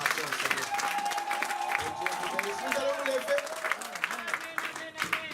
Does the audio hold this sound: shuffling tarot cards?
no